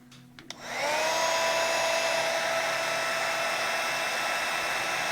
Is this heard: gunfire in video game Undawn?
no